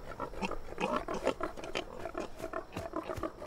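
Grunting, snorting pigs in a cartoon, a creepy, growly chorus of low animal noises that fills the whole stretch without pause, rough and close, with no talking over it.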